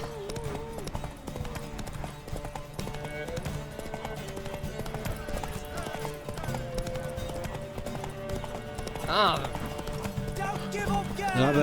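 A horse gallops at length in The Witcher 3, its hoofbeats pounding in a steady, rapid rhythm under continuous talk, with a brief whinny-like cry near the end amid game sounds.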